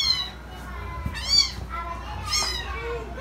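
A domestic cat meows a few times right after being bathed, short high cries rising out of a quiet room with faint background voices.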